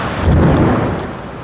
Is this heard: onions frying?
no